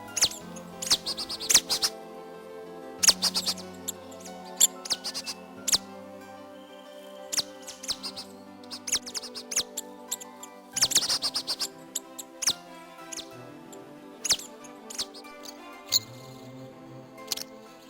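A tit calls in short bursts of high, thin chirps and rapid trills, separated by pauses, close and clear against a quiet background, with no one speaking.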